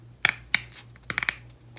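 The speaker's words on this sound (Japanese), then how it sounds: "これハサミで切れるんで" Scissors snipping through a plastic ramen colander from a 100-yen shop, used for a DIY miniature pizza oven: several sharp, close cuts, first two single snips and then a quicker cluster of clicks, with no talking.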